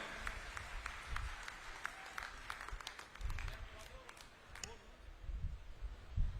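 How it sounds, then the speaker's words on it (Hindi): A rally crowd claps in welcome for the chief minister in Dadri, a scattered, moderately distant round of applause with voices in the background. "एक बार जोरदार तालियां बजाकर माननीय मुख्यमंत्री जी का स्वागत करें"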